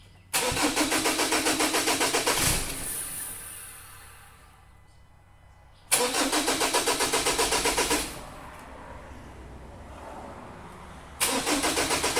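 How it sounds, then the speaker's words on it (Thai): A Mazda BT-50 Pro pickup with a no-start fault cranks three times in long, rhythmic starter-motor bursts that sputter without catching, separated by quiet pauses. "รถสตาร์ทไม่ติดนะครับ เหมือนจะติดแต่ไม่ติดนะ"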